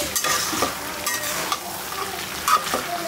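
Chinese food stir-fried desi style sizzles steadily in a pan while a utensil scrapes and clanks against it at irregular intervals, close by and with no speech.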